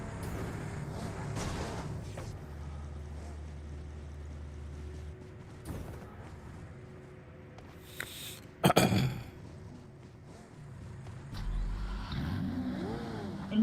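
A car in a Free Fire-style battle royale match backing up and pulling away, a low, moderately quiet engine hum with a brief louder burst midway and faint background noise.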